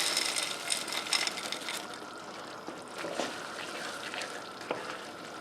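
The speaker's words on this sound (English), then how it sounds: "Turn the heat up a little bit. Let it come to a mild simmer." Shepherd's pie filling of meat with frozen peas and carrots bubbling and sizzling in a pan over raised heat, a steady close crackle with occasional stirring scrapes and faint drips, no voices.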